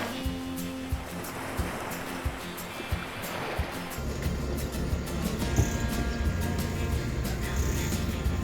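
Mediterranean surf washes onto a town beach in a continuous soft roar at moderate distance, with no talk over it.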